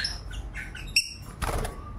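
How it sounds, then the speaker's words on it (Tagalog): A few small pet birds in a cage give short, high chirps and tweets, close by but fairly quiet. A single soft knock or door-like sound comes near the end. "So bali tatlong pirasong ibon pala to."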